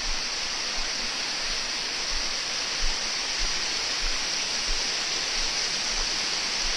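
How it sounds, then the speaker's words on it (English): A waterfall gives off a continuous, close rushing roar. The steady broadband wash of falling water stays even throughout, and no voices can be heard. "here we go, is our first waterfall"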